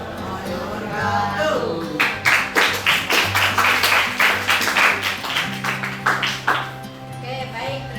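A classroom audience claps for a student group that has just finished presenting, a burst of hand clapping with a steady rhythm that lasts several seconds over a low background hum before fading.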